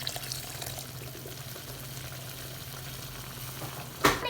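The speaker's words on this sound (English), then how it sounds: "I'm going to be adding a little bit of water and then leaving it to cook." Chicken curry with gadra beans cooking in a pot after a little water is added, giving a steady close sizzle and bubbling throughout with a sharper burst near the end; no voices.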